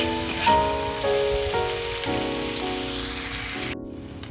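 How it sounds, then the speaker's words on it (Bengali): Prawns frying in oil in a pan, a steady close sizzle throughout with no talk, while a tonal background tune runs underneath and cuts off near the end. "চিংড়ি মাছগুলো ভালো করে ভেজে নিয়েছি, এবারে তুলে নেব।"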